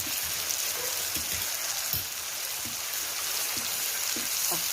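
Chili stir-frying in a pan, a steady broadband sizzle with occasional faint scrapes of a spatula, moderately close and continuous throughout.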